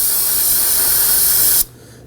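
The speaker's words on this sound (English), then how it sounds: "So I'm going to use some spray solvent." A solvent spray can blasts a steady, loud hiss into the ABS wheel speed sensor port on a 2005-2009 Subaru Legacy, then cuts off abruptly, leaving quiet.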